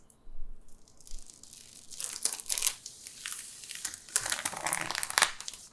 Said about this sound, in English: I can also quickly do the peel here.